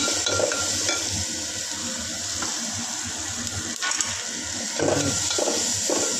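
A tempering mix of pounded dried red chillies fries in a pan, giving a steady close hiss and sputter with faint clinks, heard alone without talk.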